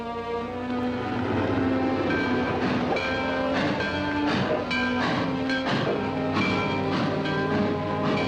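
A freight train rolls along a rail line, a loud steady rumble with clanking cars and sustained horn-like tones running throughout, no voices.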